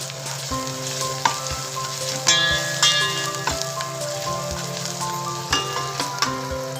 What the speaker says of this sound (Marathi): मसाला जो उरलाय तो मी पहिला तेलात परतून घेणार